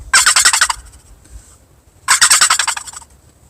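Turkey gobble imitated on a wooden box call, two loud rapid rattling bursts about two seconds apart, close and alone.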